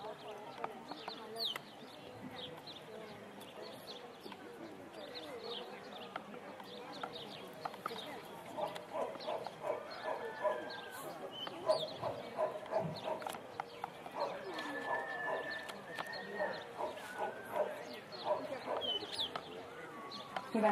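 At an outdoor village-day demonstration by a dog school in Kardoskút, a protection dog barks repeatedly at a helper. The barks come in short bursts amid crowd noise while people talk over them.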